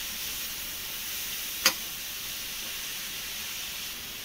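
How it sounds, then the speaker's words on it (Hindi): Vegetable stuffing for momos stir-fries on high flame, a steady close sizzle and hiss throughout with one brief sharp scrape of a spoon against the pan. "तो हमें 5 मिनट तक इस तरीके से पकाना है, इसे हाई हीट फ्लेम पर।"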